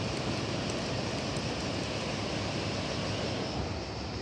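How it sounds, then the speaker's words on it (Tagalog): Water rushing down near a bridge in Rome, a steady broadband roar of flowing current close by, constant and unbroken with no voices over it. "kaya dito lagaslasan ang tubig"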